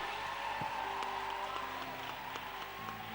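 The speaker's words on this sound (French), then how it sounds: "Qui peut donner à ce Dieu une acclamation?" A church congregation applauds and cheers for God, a dense, steady wash of clapping and crowd noise with sustained musical tones running beneath it throughout.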